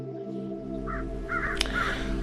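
A crow caws several times, harsh short calls standing out over a steady low hum, fairly close and clear.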